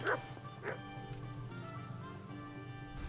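A dog in the video game Kingdom Come: Deliverance gives two quick, close barks at the start, followed by a low, quiet background hum.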